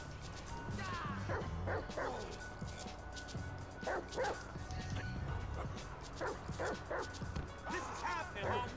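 Chop the dog barks and yips in short repeated bursts from Grand Theft Auto V, loud and close over game noise and background commotion.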